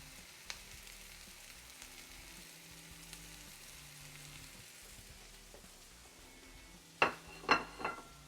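Cabbage cooks in a hot pan with a steady, low sizzle throughout, then a few sharp clanks of utensils or pan near the end.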